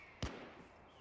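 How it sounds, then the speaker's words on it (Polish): A single sharp gunshot rings out in the shooter game Last Man Standing. It is a brief, distant-sounding crack over quiet ambience. "Słyszę strzały jakieś."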